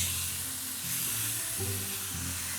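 Finely chopped mixed vegetables sizzle in plenty of olive oil in a pan, a steady close hiss with soft low stirring sounds and no talking.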